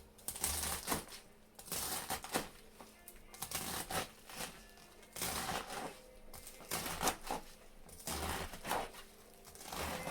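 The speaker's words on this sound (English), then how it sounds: "And just cut them." A kitchen knife chops through rolled bunches of turnip greens on a cutting board in quick repeated strokes, close and crisp, with brief pauses between runs of cuts.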